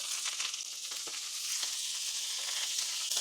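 Cabbage sizzles in a tablespoon of oil in a pan, a steady, close hiss with light crackles and the occasional stir, no voices over it.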